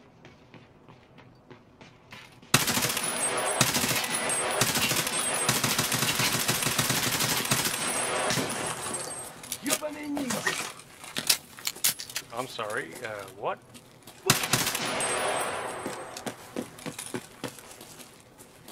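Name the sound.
gunfire in the video game Escape from Tarkov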